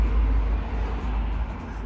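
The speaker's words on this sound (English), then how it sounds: "And you can hear the traffic outdoor." Road traffic outside an abandoned Baptist church comes through as a steady low rumble of passing cars, heard from indoors at a moderate distance with no voices.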